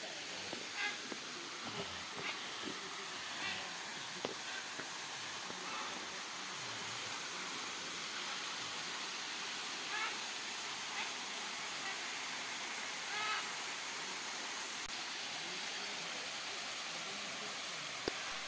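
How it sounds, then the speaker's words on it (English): Kursunlu Waterfall, an 18-meter fall in a canyon nature park in Antalya, Turkey, gives a broad, steady hiss of falling water throughout, moderately loud and constant, with faint scattered sounds on top. "Kursunlu Waterfall falls 18 meters. It is the tallest waterfall in the canyon."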